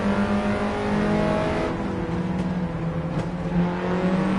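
A race car engine holds a steady high-pitched drone in a racing video game, running loud and continuous with small shifts in pitch as it revs and eases.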